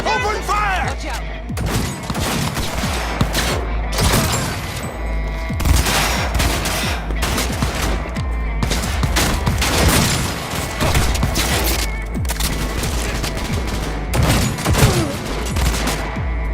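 Gunfire in the video game Cyberpunk 2077: dense, loud bursts of rapid automatic fire and shots overlapping continuously, with booming low thuds and shouted voices in the mix.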